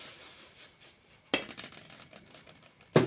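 Freshly washed items drop into a bowl in a home kitchen preparing a North Karnataka recipe, giving two sharp metallic clinks with light rattling between them, close and fairly quiet.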